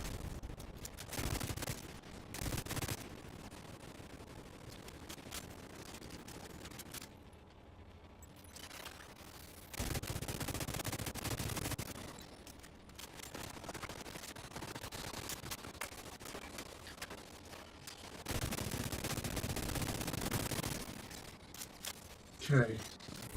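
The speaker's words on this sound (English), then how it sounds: "And now I've got the magic ammo gun" Rapid gunfire from a magic ammo gun in a video game, sustained bursts of shots with short lulls and a louder spike near the end, with a voice talking over it.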